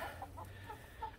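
Chickens cluck softly in a chicken run, several short, quiet clucks spread across a low steady background, with no one talking.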